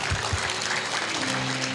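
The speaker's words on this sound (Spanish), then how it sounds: "Un aplauso al Señor." Congregation applauding inside a church during a sermon, a diffuse, sustained wash of many hands clapping, fairly even in level from start to finish, with a couple of low thumps early on and no words spoken over it.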